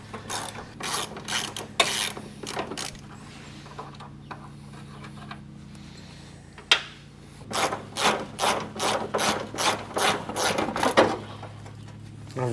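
Hand tools working loose rusty, seized transmission bolts on a 1986 Chevrolet K30's 4-speed, a series of close ratcheting clicks in bursts with a sharp metallic knock midway and pauses of quieter shop noise.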